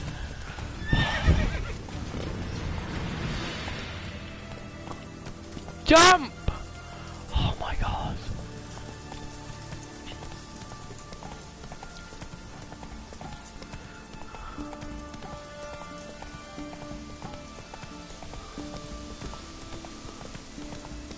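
Roach, a horse in a PS4 video game, whinnies and clip-clops at a gallop, with loud bursts early on that fade into steady quieter hoofbeats while a voice shouts over it.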